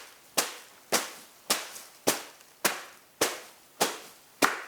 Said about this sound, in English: or you can beat them with a stick